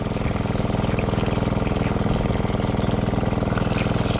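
Boat engine running on the water with a steady throbbing pulse, the revs easing slightly and swelling again, loud and close with no speech over it.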